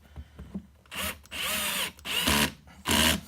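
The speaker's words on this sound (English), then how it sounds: "you could turn this thing way down just to make sure that you're not going to strip these screws out if you're using one of these guns" A power screw gun drives screws during assembly of a mini arcade cabinet, four short whirring bursts separated by brief pauses, close and fairly loud in a quiet room.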